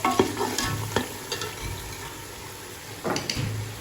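Yogurt being stirred into sizzling masala for tinda gosht (meat with round gourd) in a pan, with a spoon scraping in a few distinct strokes over a low steady fry, close and moderately loud, no talking.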